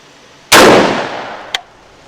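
A single loud, close DSA 58 FAL rifle shot with a sharp onset and a long ringing decay, followed about a second later by a brief metallic click.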